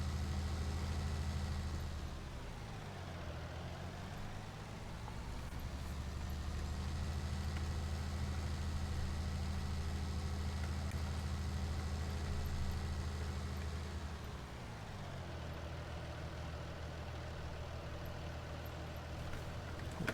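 A tractor engine in Farming Simulator 19 drones steadily with a deep low hum, revving up and easing back as the load changes, continuous and close with no talk.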